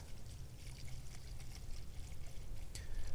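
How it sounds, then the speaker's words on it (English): Water pouring and trickling into a pump sprayer, a faint continuous splashing stream that grows slightly fuller toward the end, with no voices. "we'll just fill the rest up with some water, get the sprayer pumped up"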